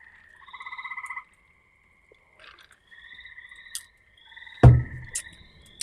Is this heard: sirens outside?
no